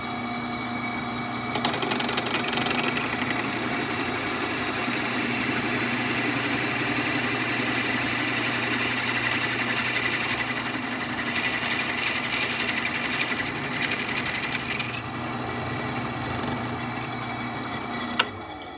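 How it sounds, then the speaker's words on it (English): A steady mechanical whine of a power drill running continuously, with a high-pitched grinding tone as the bit slowly works into hard 1095 blue spring steel, then stopping abruptly. "I found that the drill bits do go through if you go slowly."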